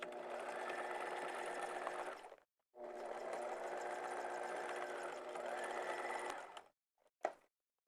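A sewing machine runs a straight stitch on a jelly vinyl zipper pouch, humming in two steady rapid runs with a short pause between, then a brief final whir and a click.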